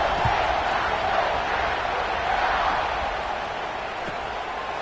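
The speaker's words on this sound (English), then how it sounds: "this crowd is buzzing after that last score." A football stadium crowd buzzes steadily after a score, a dense, even wash of distant voices and murmur with no clear cheers and no nearby talk.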